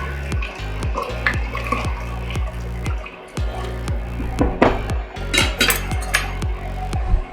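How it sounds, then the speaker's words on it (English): A spoon stirring mushroom soup seasoned with sherry vinegar in a pot, repeated clinking scrapes against the metal in an uneven rhythm, with a few louder knocks toward the end, close up. "We'll give it a stir and then another taste."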